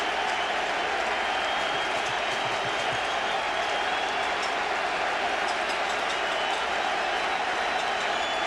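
A big baseball crowd at Yankee Stadium roars continuously as fans rise to their feet, a dense, loud, sustained wash of cheering and applause filling the open ballpark.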